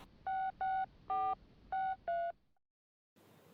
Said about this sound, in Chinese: 我这就给我们总裁王总打个电话确认一下啊